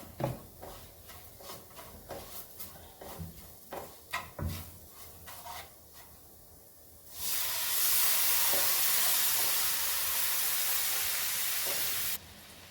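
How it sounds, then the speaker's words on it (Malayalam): Chicken stock poured into a pot of fried chicken biryani: a few soft clinks and knocks, then a loud, steady hiss and sizzle for about five seconds before it cuts off sharply. "ആ ചിക്കൻ വേവിച്ചതിന്റെ സൂപ്പ് ഞാൻ മാറ്റി വെച്ചിട്ടുണ്ട് അതാണ് ഞാൻ ഇതിലേക്കൊന്ന് ഒഴിക്കാൻ പോകുന്നത്"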